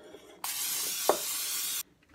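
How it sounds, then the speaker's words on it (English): A short steady hiss of aerosol cooking spray, about a second and a half long, starting and stopping abruptly in an otherwise quiet room. "Now I'm going to give it a spray with Pam."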